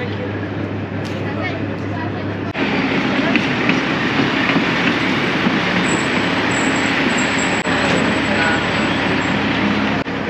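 A children's railway train in the Buda Hills, Budapest, rumbles steadily along with a dense, continuous roar and faint high squeals, loud and close throughout.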